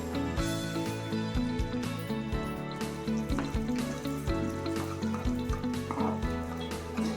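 Chana dal and urad dal frying in a pan of oil for pudina chutney, a steady close sizzle with repeated stirring scrapes and clinks running through the whole stretch, with no talk.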